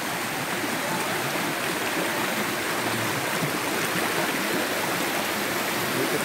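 Busay Falls pouring into a pool, heard as a loud, steady, broadband roar of falling water that stays constant throughout, with no speech over it.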